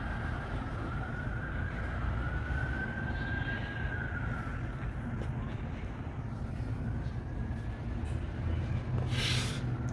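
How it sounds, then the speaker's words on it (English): Police and emergency vehicle sirens wail in the distance, a rising and falling tone drifting over steady traffic rumble, faint at first and growing slightly nearer. "Hear the sirens in the distance?"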